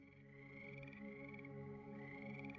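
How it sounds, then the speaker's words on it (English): Frogs croak in a dense, continuous chorus of rhythmic, overlapping calls at a moderate distance, with no voices over them. "if you hear frogs"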